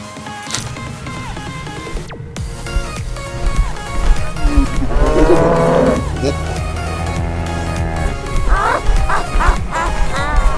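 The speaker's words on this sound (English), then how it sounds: "Cows in real life." Real cows mooing with long, low, drawn-out calls, mixed with yipping, whining animal sounds, busy and fairly loud throughout, with some voices in the background.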